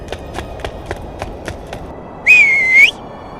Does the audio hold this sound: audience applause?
no